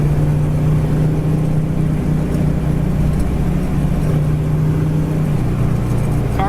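A 1970 Chevrolet Chevelle with lower rear gears cruises down the road, its engine a steady, continuous drone with a low harmonic hum and constant road noise, close and loud throughout without any talk.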